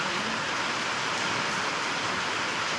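Steady, dense rainfall hissing continuously, close and even, with no voices or other sounds.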